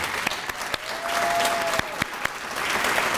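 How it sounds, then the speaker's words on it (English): An audience at the PCD Legends Awards Ceremony 2017 applauds, with sustained crowd clapping and a few sharp, louder claps standing out near the front. "please, let's give him a round of applause"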